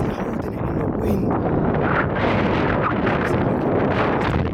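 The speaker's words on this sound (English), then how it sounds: "So windy. How is he holding it in the wind?" Strong gusts buffet an outdoor microphone near an airport, producing loud, continuous low rumbling and flapping that surges and eases over several seconds with no break.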